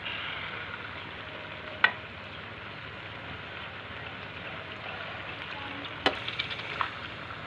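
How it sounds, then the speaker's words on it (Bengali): Chicken being sautéed in a pan for a chicken and chana dal dish, a soft continuous sizzle and hiss with a few sharp spoon knocks against the pan, fairly quiet and close. "ভালো করে মাংসটা আমরা কষিয়ে নেব"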